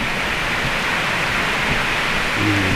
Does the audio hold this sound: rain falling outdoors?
yes